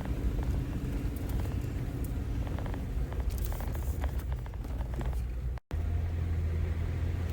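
A Jeep drives up a rough sandy wash on an off-road trail in Southern Utah, with a steady low engine rumble and continuous bumping road noise inside the cab, broken by one brief dropout near the end.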